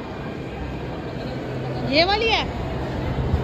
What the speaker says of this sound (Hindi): मेट्रो भी हमारी आ गई है